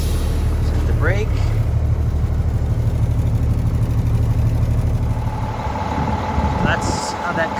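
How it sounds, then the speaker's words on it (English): A Cummins ISM diesel engine idles in an International Paystar 5600 truck, with a steady low rumble held throughout while someone talks over it. "That's how that Cummins ISM sounds when it's purring away."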